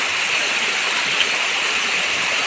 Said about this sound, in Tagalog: Sana huwag na lumakas yung ulan.